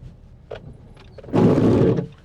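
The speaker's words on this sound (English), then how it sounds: "That noise is because I'm in my wife's car when I did the windscreen wiper rather than the indicator." A car's windscreen wiper, switched on by mistake instead of the indicator, makes a single loud, close scraping sweep across the glass lasting under a second, after quieter cabin noise.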